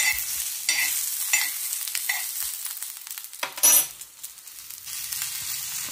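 Green chillies frying in oil in a pan, crackling and sizzling close by in uneven bursts, with stirring scrapes and a brief louder flare near the end, no voices.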